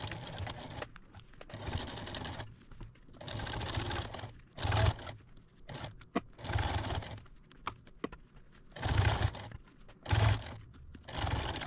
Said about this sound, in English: sew about a half inch seam all the way around